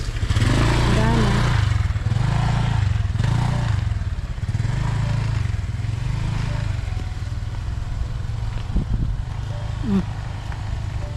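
A motorcycle engine runs steadily through a ride on a sunny but cold, windy day, its low throbbing drone loud and continuous, rising and falling slightly with the throttle, with wind buffeting and a voice speaking intermittently over it.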